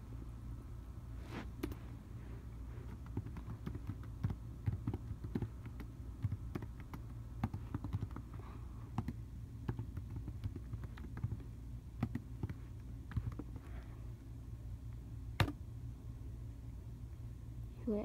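Steady typing on a computer keyboard nearby, a long run of soft irregular key clicks over a low constant hum, with occasional sharper taps.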